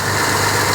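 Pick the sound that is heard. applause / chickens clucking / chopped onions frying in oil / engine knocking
engine knocking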